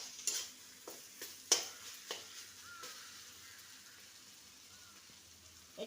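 Eggplant and coconut filling is stirred in a pan after the lid comes off, with a handful of sharp utensil scrapes and clinks over a faint, low sizzle, close and sparse.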